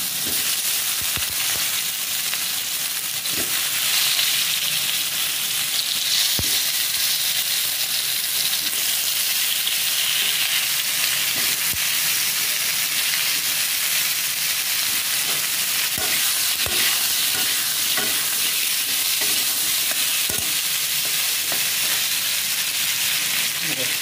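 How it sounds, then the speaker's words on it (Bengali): Fish and potatoes fry in hot oil in a kadai, giving a loud, steady, close hiss and crackle that runs unbroken, with faint clicks and pops scattered through it. "হ্যাঁ মাছ, আলু তেলেই ভেজে নিচ্ছে।"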